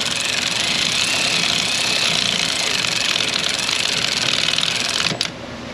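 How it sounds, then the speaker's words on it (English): A green electric ratchet whirs steadily as it spins a bolt's threads down on a Ford 5.0 Coyote engine, a continuous buzzing drone that cuts off abruptly near the end, with no talking. "we're just going to sneak our way in with the green ratchet"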